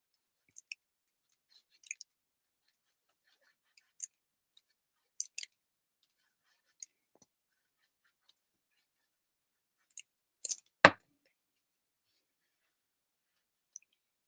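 Scissors trimming paper for a handmade card, heard as sparse, quiet snips and small clicks scattered across a silent background, with one sharper cut near the end.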